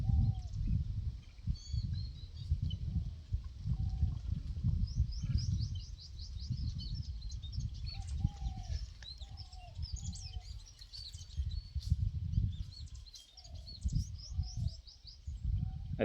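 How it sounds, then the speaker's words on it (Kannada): Birds chirping under trees at a family temple, repeated short tweets and trills near and far over a low rumbling breeze, no talk. "ನೋಡಿ ಪಕ್ಷಿಗಳು"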